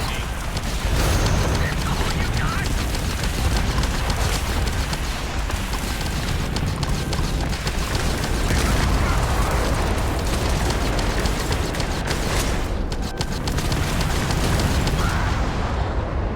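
Spaceship turrets fire amid explosions during a fleet battle in the video game Starfield, a dense, loud wash of booming blasts and rumbling bursts that runs without a break from start to finish.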